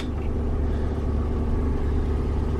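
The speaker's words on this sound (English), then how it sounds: "and it should be running on its own." A 2008–2013 Chevrolet Silverado idles on its own after a remote start, a steady low rumble heard close and continuous throughout.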